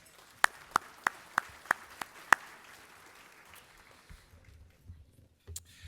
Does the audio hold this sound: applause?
yes